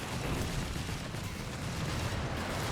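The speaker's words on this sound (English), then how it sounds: "That's a base artillery barrage coming down, in case you were wondering." An artillery barrage in the video game Company of Heroes 3 rumbles as a continuous, heavy low roar of overlapping shell blasts, loud and unbroken throughout.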